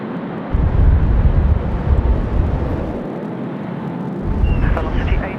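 A United airliner takes off on the cross runway at Sydney Airport on a windy day, giving a broad, loud jet roar that swells and ebbs steadily with a low rumble throughout.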